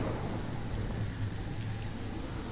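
Steady, soft rainfall patters continuously, a diffuse hiss with no voices or other sounds.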